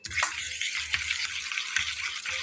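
Oil is stirred into gram flour (besan) batter, giving a soft wet mixing sound with a few sharp scrapes and clicks, close and steady.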